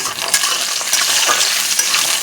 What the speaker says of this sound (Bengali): বড়িটা সুন্দর করে আমি এখন ভাজা করে নেব।